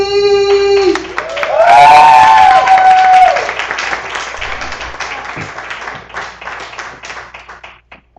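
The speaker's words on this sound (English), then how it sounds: "Give a great round of applause for Miss Holly." An audience at a live spoken-word poetry event bursts into clapping and cheering after a tonal musical sting, the applause swelling loudly and then tapering off as it fades toward the end.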